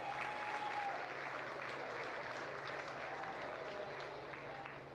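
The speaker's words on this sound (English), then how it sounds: "Give her a round of applause." A crowd at a county fair livestock arena breaks into sustained, dense applause for a livestock class winner, steady and loud for the whole stretch with some voices mixed in.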